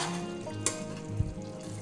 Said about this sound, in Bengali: আর 2 মিনিট একটু ফুটিয়ে নেব